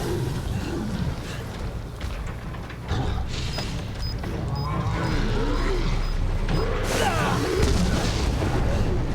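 Explosive detonation in Resident Evil 7, a heavy booming blast with a long rumbling roar and creaking debris that stays loud and dense throughout, no voices.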